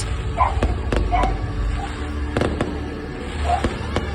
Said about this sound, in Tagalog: May pa-fireworks ang mga ante ko